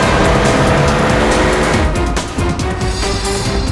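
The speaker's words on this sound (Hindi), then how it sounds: "सचिन जल्दी गाड़ी चला, इससे पहले कि देर हो जाए हमें उसे रोकना होगा" A car speeding away on a road in a TV crime drama chase, loud engine roar with tires squealing continuously, close and intense throughout with no talk.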